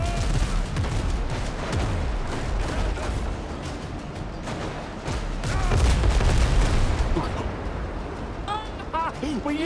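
A naval cannon volley from a ship's twin guns in the video game Windrose, a sustained barrage of overlapping booms and blasts, loud and dense, with voices talking over it.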